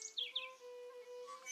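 Male red-winged blackbird singing in a wetland sanctuary: a few brief, bright chirping notes near the start over a faint steady buzzing hum, the whole thing quiet and short.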